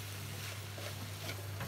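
Boiled potatoes being stirred into sizzling masala in a pan for potato gravy, with a soft steady frying hiss and faint scraping of the spoon, quiet and close, no voices.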